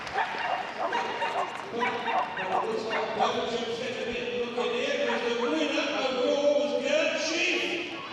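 Dogs bark and yip amid an arena crowd at the Crufts 2014 Kennel Club British Open agility jumping event for large dogs, with excited barks scattered over continuous background noise and voices talking throughout.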